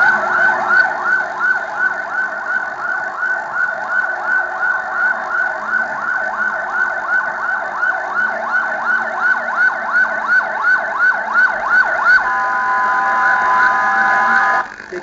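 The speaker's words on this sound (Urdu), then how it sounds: "ہر طرف پولیس اور ایمبولینسوں کے سائرن کی آوازیں گونج رہی تھیں" Wailing police and ambulance sirens after a suicide bomb blast on an Ashura procession in Karachi, cycling rapidly and continuously at close range, loud and steady, with a sustained tone taking over near the end.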